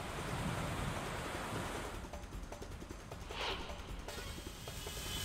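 Heavy monsoon rain falls in Shahapur, Maharashtra, as a steady, soft broadband hiss that is fairly quiet and even, with no voices.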